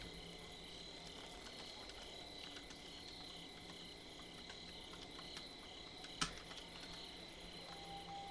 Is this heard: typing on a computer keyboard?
yes